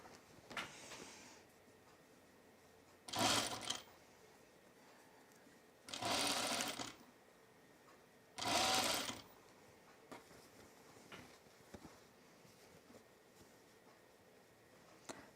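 A sewing machine stitches the final seams of a top with tucks, running in three short, separate bursts of steady whirring with quiet gaps between them.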